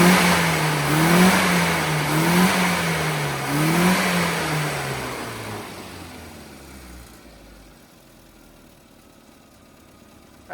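The engine of a classic Mini 850, freshly carburettor-tuned, revs up and down in several smooth, rising and falling surges nearby, then settles back toward a quiet idle.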